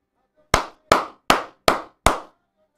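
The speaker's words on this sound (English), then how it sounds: "I am applauding this woman" Five single sharp claps ring out alone at an even, deliberate pace in a church, each one crisp and close with a short decay, separated by quiet gaps.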